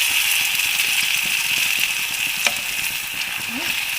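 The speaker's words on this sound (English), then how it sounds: "Fry them till golden brown, but do not burn them" Dhoka lentil cakes fry in oil over a medium flame, giving a steady, loud, close sizzle that holds without a break, with a faint clink partway through.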